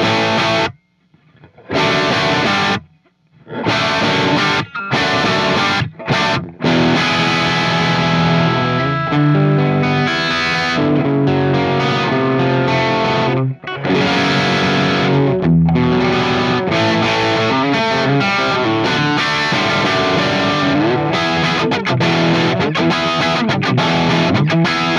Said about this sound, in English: We're getting some guitar sounds these days